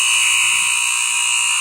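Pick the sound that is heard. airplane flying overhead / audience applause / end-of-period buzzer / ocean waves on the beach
end-of-period buzzer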